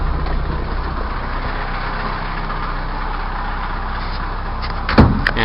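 A truck engine idles steadily right after the ignition is switched on, a loud, even low rumble held throughout, with a brief clunk near the end and no talking.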